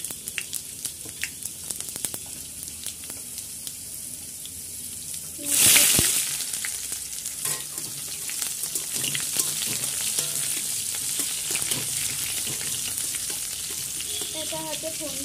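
Bay leaf, dried red chilli and whole spices tempering in hot oil in a wok, giving a sudden loud sizzling burst that settles into a steady crackling fry, with a brief voice near the end.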